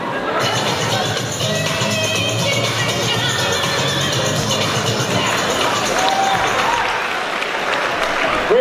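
An audience at a school community meeting breaks into loud applause and cheering, a dense sustained crowd roar of clapping and shouts lasting several seconds.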